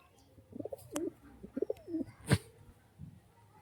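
Soft, throaty coos from a young male Madrasi pigeon repeat in short bursts nearby, with a sharp click partway through and faint background noise.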